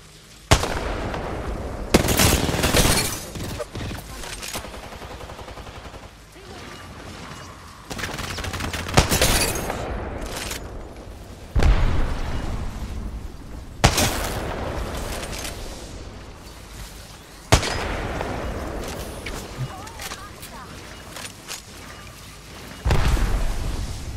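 Gunfire rings out in the battle royale game Apex Legends, with several loud bursts of rapid shots and single cracks spread across the stretch and quieter gaps between them.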